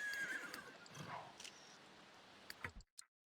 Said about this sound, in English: Oh, hello, Wild Horse.